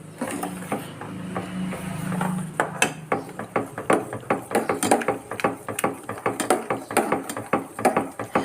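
Urad dal milk is stirred without pause in a heavy-bottomed pan. After a low simmering hum comes a steady run of close, rhythmic scraping knocks from the spoon on the pan base, with no voices.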